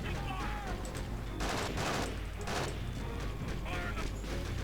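Rattling automatic gunfire in the war game Conflict: Desert Storm 2, with bursts swelling and fading over steady battle noise and a few heavier volleys in the middle.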